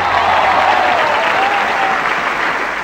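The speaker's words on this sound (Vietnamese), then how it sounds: "hãy cho ba thí sinh chúng tôi một tràng pháo tay thật lớn" A large television studio audience applauds loudly and steadily for three contestants, dense clapping filling the whole stretch and easing slightly at the end.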